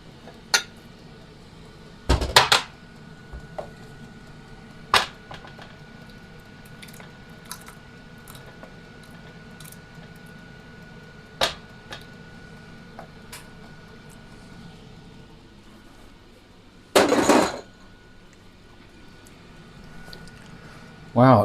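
Dishes clatter in a home kitchen as a bowl is pulled out, with a few sharp, close knocks and a longer rattling burst of crockery, separated by quieter stretches.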